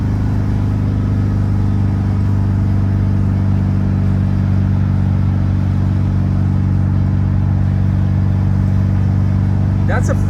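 A 1970 VW Bay bus with Weber carburetors cruising in fourth gear at about 55 mph: a loud, close, steady low engine drone and road hum holds evenly through the whole stretch.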